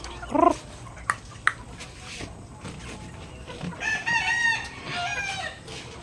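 Nearby chickens cluck in short bursts, then a rooster crows loudly in drawn-out calls, with faint background rustling on a farm.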